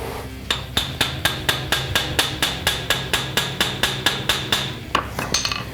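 Steady series of sharp metallic hammer taps on a bolt into a bracket during a Corvette rear suspension rebuild, about four per second, close and evenly spaced, ending in a few quicker, lighter strikes.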